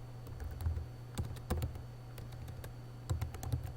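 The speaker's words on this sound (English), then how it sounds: "type in the word quartile" A formula being typed on a computer keyboard in a spreadsheet, with close, clattery key clicks in short bursts and pauses over a steady low hum.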